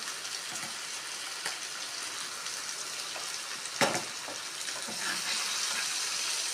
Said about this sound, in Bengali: মশলাটাও একটু ভাজবো।